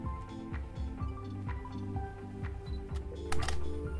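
Canon EOS 90D DSLR shutter firing in several quick mechanical clicks, sharp and close, over a soft rhythmic background bed.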